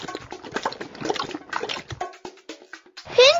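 Game water splashing and sloshing as a pony named Pinto drinks in a Dora the Explorer video game, a busy run of wet splatters with a brighter chime-like flourish at the end.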